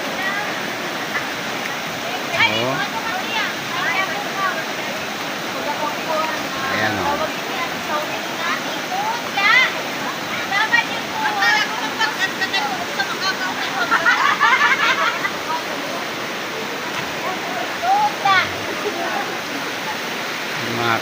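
Hot spring water rushes and splashes steadily, a loud continuous gush close by, with voices and laughter breaking through now and then.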